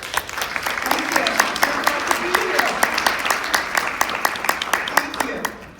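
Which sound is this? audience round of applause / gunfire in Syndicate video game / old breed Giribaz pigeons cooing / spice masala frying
audience round of applause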